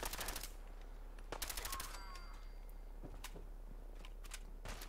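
Faint automatic gunfire in Fallout 4, a couple of short rapid bursts at the start and middle, then scattered single shots, sounding distant and quiet against a steady low background hum.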